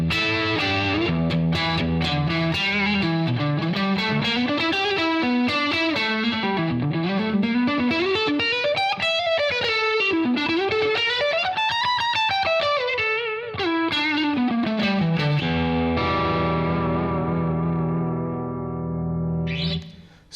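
A Strat-style electric guitar played through the neck pickup with effects, sustained notes and bends with echo and a slight overdrive, ringing alone for about twenty seconds before fading.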